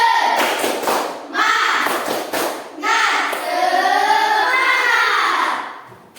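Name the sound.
class doing rhythmic spirit clapping (tepuk semangat)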